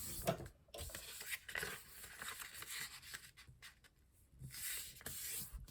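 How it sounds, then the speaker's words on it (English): Paper being folded into an origami heart makes soft, close rustles and creases, with brief scrapes and pats coming in uneven bursts and a quiet pause near the end. "fold this in half and then fold both of these up to the center"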